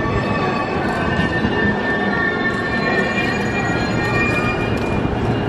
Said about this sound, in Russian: Мы приехали в Киото! Посмотрите на этот вокзал.